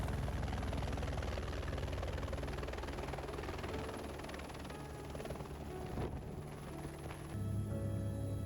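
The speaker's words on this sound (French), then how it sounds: "Nous allons effectuer un vol en hélicoptère de 50 minutes autour du Mont Blanc." Helicopter on a sightseeing flight around Mont Blanc, a loud, steady rotor and engine drone heard from inside the cabin, continuous throughout with slight shifts in tone.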